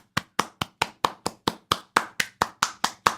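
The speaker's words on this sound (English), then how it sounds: "Do you really know what you're clapping about?" Bare hands clap steadily at close range, about fourteen sharp, evenly spaced claps in quick succession with no talking.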